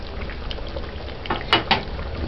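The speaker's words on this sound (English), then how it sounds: "Not sticking, just simmering." A stew of cow's head and Jamaican-grown broad beans simmers on very low heat in a covered pot, giving a soft continuous bubbling hiss with a few louder pops toward the end.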